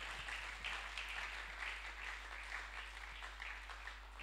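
A church congregation claps and applauds steadily for several seconds, a dense, even wash of hand claps filling the room with no talk over it.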